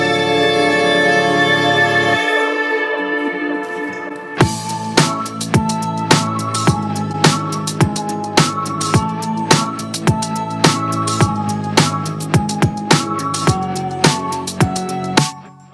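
Song build-up on sustained synth chords that cuts to a brief hush, then drums crash in at the apex with a steady, punchy kick and snare pattern under layered chords, loud and continuous to the end.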